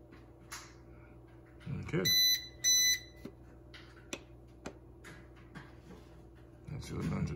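An aquarium battery backup unit sounds two short, bright alarm beeps in a row, close and clear over a low hum, while someone talks nearby before and after.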